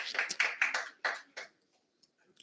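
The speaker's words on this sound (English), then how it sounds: "Another round of applause, please." Short burst of audience applause at a Pasifika Fusion 2024 speech competition, a couple of seconds of mixed clapping that thins out quickly and falls to near silence with a few scattered claps.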